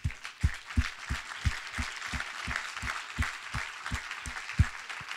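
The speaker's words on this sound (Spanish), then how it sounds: "Dale un aplauso a Dios." A church congregation claps in a steady, strongly rhythmic unison beat that runs throughout, with a diffuse wash of hand noise behind the pulses and no speech over it.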